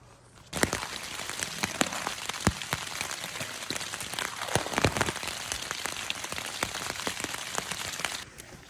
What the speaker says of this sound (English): It's been raining off and on.